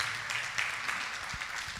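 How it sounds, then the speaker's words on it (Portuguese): A church congregation applauds, producing a steady wash of many hands clapping together, moderately quiet and continuous with no clear voices over it. "vamos aplaudir a Jesus"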